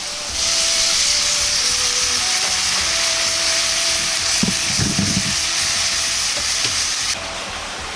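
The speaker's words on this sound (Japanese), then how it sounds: "かぼちゃの表面に油が回ってきたら水を 100cc で煮ていきます" Butternut squash cooking in a pot after frying in oil with 100 cc of water added, a steady close hiss and sizzle with a brief burst of bubbling and stirring midway.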